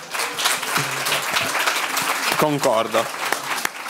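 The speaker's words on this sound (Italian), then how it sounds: "E un applauso ai traduttori, assolutamente." An audience at a youth meeting in Turin claps in steady, continuous applause while a voice speaks over it.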